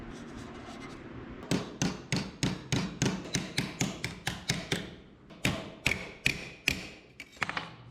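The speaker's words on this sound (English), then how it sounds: "Just a little hammer" A steady series of sharp metallic taps from a small hammer on rusted metal of a 1930 Ford Model, about two per second after a quiet start, with a short pause before more strikes.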